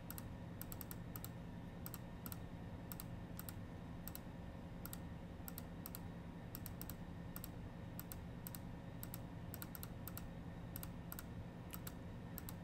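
Steady, continuous keystrokes on a computer keyboard as a new password is typed in, with clustered clicks running evenly throughout over a low background hum.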